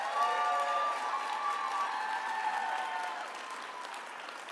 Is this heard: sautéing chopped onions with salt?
no